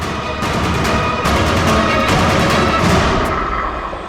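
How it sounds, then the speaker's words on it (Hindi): Several sharp gunshots crack through a dense, loud wash of noise, spaced irregularly across a few seconds. "गोली चला दी।"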